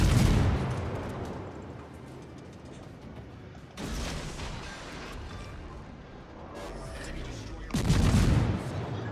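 Anti-aircraft guns fire at aircraft during a World of Warships battle, with heavy booming bursts near the start, middle and end over a low rumbling background.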